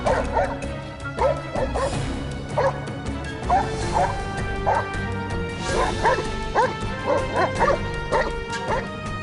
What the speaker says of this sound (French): désigner sa présence par des aboiements